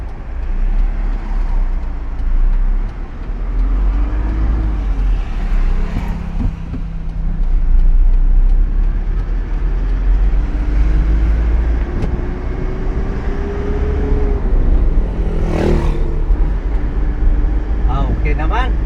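A vehicle on a road test after its bearing was greased: a loud, steady engine and road rumble from inside the moving vehicle, with people talking over it throughout and a brief horn-like tone near the end.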